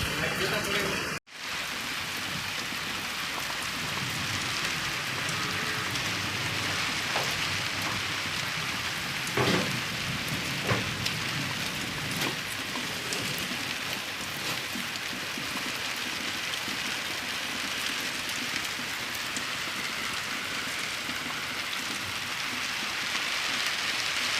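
Heavy rain pours steadily on a village, a dense continuous hiss of drops on surfaces lasting throughout, with occasional sharper patters and a brief dropout near the start.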